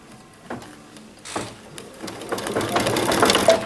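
A sewing machine stitches in short mechanical bursts that build into a steadier, louder whirring run toward the end, with no talking over it.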